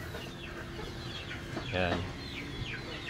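Soft clucking from chickens nearby, with a louder squawk partway through and a person speaking briefly over it.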